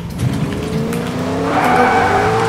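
A car driven in the Fortnite video game, Chapter 2 Season 3, with a steady engine drone and tire skidding, growing slightly louder and rising in pitch toward the end, with no talking.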